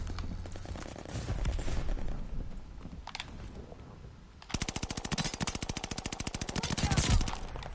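Rapid automatic gunfire in the video game Call of Duty, with dense bursts early on, then a sustained, evenly spaced volley of loud shots through the second half of the clip.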